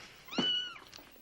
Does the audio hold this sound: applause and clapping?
no